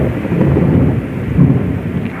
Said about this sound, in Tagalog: lakas ng kulog, malakas sa ulan